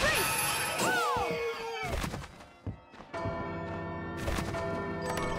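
Bell struck inside Bloodstained: Ritual of the Night, a loud resonant clang with a pitch-bending tonal sweep, then a few dull thunks and a second bright strike, all amid steady game music and effects.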